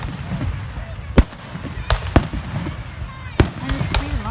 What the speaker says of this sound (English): This is actually the first fireworks in our spring.